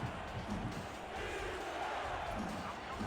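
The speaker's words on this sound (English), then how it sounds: "this crowd is loud. They're yelling for the defense" A loud, dense football stadium crowd roars and yells continuously for the defense on third down, a broad wall of voices with no pause.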